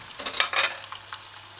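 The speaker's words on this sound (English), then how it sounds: "you see when you're frying and the sizzling gets less, like you hear less" Chicken tenders fry in hot oil with a soft, close sizzle, crackling in brief uneven bursts over about a second and a half, quiet overall with no voices.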